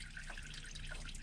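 Motor oil drains from the oil pan of a GMC Yukon XL Denali with a Duramax LM2 diesel engine, a faint, steady trickle and dribble heard alone.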